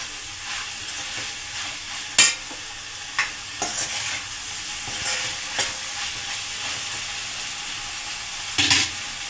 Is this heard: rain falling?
no